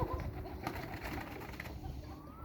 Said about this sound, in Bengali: সব কবুতর চলে আসতেছে